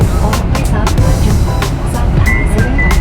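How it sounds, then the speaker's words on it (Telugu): An IndiGo airport shuttle bus carries passengers across the apron to their plane, with a loud, constant engine rumble and road noise close by and scattered rattles and knocks from inside the cabin. "ఇది ఇండిగోది బస్సు ఉంటుంది కదా ఫ్లైట్ వరకు తీసుకెళ్ళడానికి అది ఎక్కాను"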